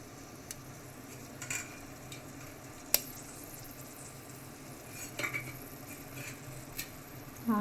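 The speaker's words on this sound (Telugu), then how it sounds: "ఆయిల్ హీట్ అయింది. ఉల్లిపాయ పచ్చిమిరపకాయ వేస్తున్నాను." Onion and green chilies sizzle in hot oil in a pan while cooking egg fried rice, a quiet, steady crackle with occasional sharp ticks and stirring clinks, no talk.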